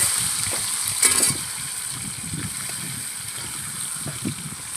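Marinated chicken poured into hot oil frying with a loud, steady hiss and bubbling crackle, close up and continuous, with a brief louder splash early on and no talking.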